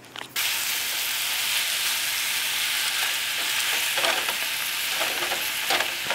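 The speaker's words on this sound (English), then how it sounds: "You're just going to heat up a pan and put it in there until it's cooked" Lean ground beef frying in a hot pan, a loud, dense, continuous sizzle starting abruptly and holding steady, with faint stirring scrapes, close up and without voices.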